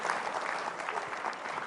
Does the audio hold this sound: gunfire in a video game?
no